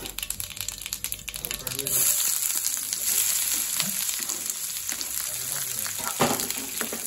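Onions hitting hot oil for a granny-style chicken fry, with a sizzle that swells and then holds loud and steady alongside light rattling as they are stirred, while someone speaks briefly.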